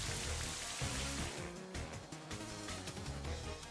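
Rain summoned by a battle move in the video game Pokemon Scarlet, a steady dense hiss of falling rain layered over the game's background music.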